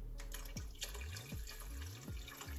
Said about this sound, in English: Now I'm just going to add in my chicken stock